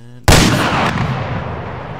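A single loud, booming shot from a Barrett M107 .50 caliber sniper rifle in the Arma 3 game, a sharp blast followed by a long, rolling echo that slowly fades.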